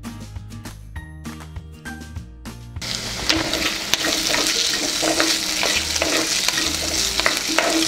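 Onion, garlic, potato and turmeric fry in a pan for a mochai potato kulambu, first with clinking stirring strokes, then a steady loud sizzle with scraping over several seconds.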